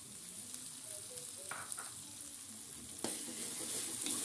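Petai beans fry in hot oil for sambal, giving a steady, soft sizzle with faint stirring scrapes and no talk.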